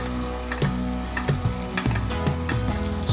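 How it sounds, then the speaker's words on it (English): Lamb sizzles and fries in melted butter in a pan while being basted, making a steady close crackle with repeated spoon scrapes and stirring sounds. "you're just literally bathing your lamb in the melted butter"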